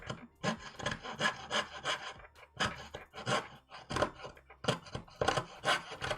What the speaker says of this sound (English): I don't have a good angle for sawing.